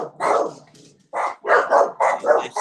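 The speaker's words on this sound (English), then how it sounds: "And our dogs are good at alerting" Several dogs bark at a no-kill animal shelter in a business district, loud and close, in rapid bursts with short pauses and a low growl, no talk over them.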